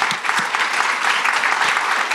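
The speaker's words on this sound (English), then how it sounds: "I think that's worthy of a round of applause for that." An audience at a startup talk on going from seed funding to IPO claps in steady, dense applause, loud and continuous throughout with no speech over it.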